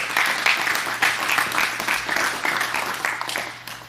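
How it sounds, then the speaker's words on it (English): Audience members at a baseball throwing clinic clap close by, a brisk burst of applause with distinct individual claps that tapers off toward the end, over a faint low hum. "A round of applause for Nuke."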